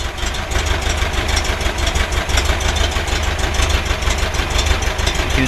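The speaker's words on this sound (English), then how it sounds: "Okay, now with the engine at very low revs." A 2-litre air-cooled VW engine fitted with a retrofitted distributor idles at very low revs, a steady, loud, close rumble with an even rhythmic chug and no talk over it.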